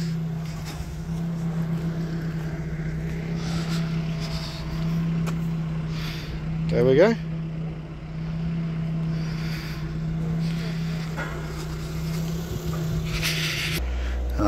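A Vauxhall Astra 1.7 diesel engine idles at raised revs around 1800 RPM while standing still during a DPF regeneration, a steady low drone throughout with a brief whine and a short spoken remark in the middle.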